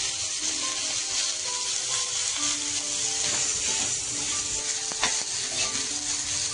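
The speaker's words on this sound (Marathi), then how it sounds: "5-6 कांदे आहेत ना उभी चिरलेली, हे पण भाजून घेऊ चालेल." Sliced onions, five or six of them, roasting in a pan for Puneri misal, with a continuous near sizzle and occasional clinks and scrapes from stirring.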